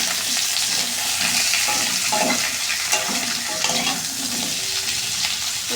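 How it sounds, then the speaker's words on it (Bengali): Potato pieces frying in a pan for a chicken curry, a steady broadband sizzle running throughout with a few soft scraping and stirring knocks, close and fairly loud, with no talking. "আলুটা ভালো মতন আগে ভাজতে হবে লাল লাল করে"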